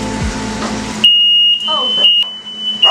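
A kitchen smoke alarm goes off while churros fry, a piercing steady high beep that cuts in partway through and keeps sounding loudly, with brief voices and household noise around it.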